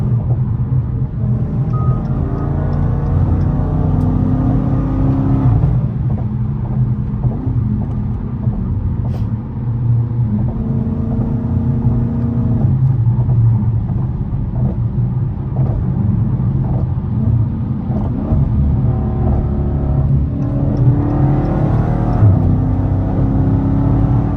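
Dodge Challenger Scat Pack 392 V8 pulling hard on a highway, heard from inside the car as a loud, steady engine roar with rising and falling tones as it accelerates through the gears, continuous throughout.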